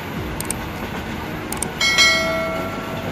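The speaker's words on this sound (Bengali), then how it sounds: "Parabat express train Dhaka two Sylhet এবং সিলেট টু ঢাকা চলাচল করে থাকে।" Parabat Express train of Bangladesh Railway, a moderately loud rolling rumble with a few high metallic rings and a brief tonal squeal or horn-like whine midway.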